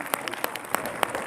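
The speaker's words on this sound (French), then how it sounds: "Allez, on peut l'applaudir très très fort." A short burst of audience applause at a show, scattered claps over a general clapping wash, fairly faint and lasting only about a second.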